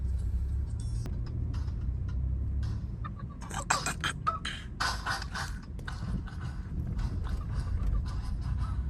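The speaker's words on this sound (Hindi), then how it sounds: "ये जो गाड़ी जा रही ना" A car passes on a road on a return journey from Rameshwaram in southern India, with steady low engine rumble building to a broadband swell of tyre noise midway, amid general roadside traffic ambience.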